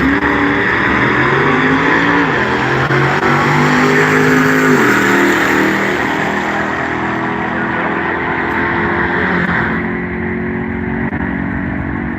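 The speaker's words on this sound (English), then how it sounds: "we have a Duster in the left lane" A Dodge Duster drag car accelerates hard down the left lane at a Halloween Classic drag race, a loud, close engine roar climbing through gears in rising sweeps, then fading slightly as it pulls away.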